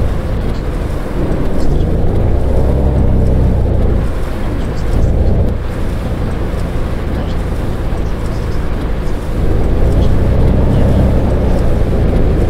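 Flixbus coach driving in the Fernbus Simulator video game, a steady low engine hum and road rumble that swells and eases slightly, with occasional speech over it.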